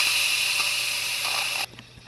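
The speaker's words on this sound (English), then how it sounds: "Now I'm going to let the rest of the steam out." Steam released from a pressure cooker after cooking potatoes for potato salad hisses loudly and continuously for over a second and a half, then stops abruptly, leaving faint clicks.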